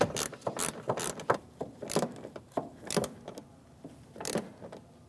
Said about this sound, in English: then I'll put my ratchet on. And I'm just going to snug it right up.